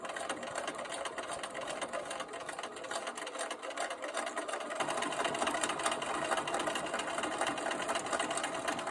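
A sewing machine stitching quilt pieces along the bias, running continuously with a fast mechanical chatter that grows slightly louder partway through. It is heard alone, without speech.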